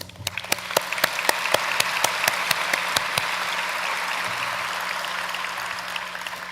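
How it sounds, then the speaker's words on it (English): A commencement ceremony audience applauding steadily, dense clapping that starts with a few sharp individual claps and then settles into a continuous wash, no voices. "Give yourselves a round of applause"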